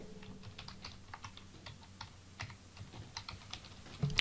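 Quick, irregular clicking of keys on a computer keyboard as a username and password are typed in, close and steady over a faint background hum with no talking.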